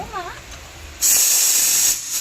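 A pressure cooker releases steam in a sudden loud, sharp hiss that starts partway through and holds steadily for over a second before cutting off, after a short stretch of quieter room noise.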